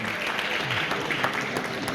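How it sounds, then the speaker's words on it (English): Symposium audience applauding for a doctor at a health care gathering in Detroit, a dense steady wash of many hands clapping at moderate volume for the full stretch, with no break. "give Dr. Sampson a big round of applause for the work you're doing"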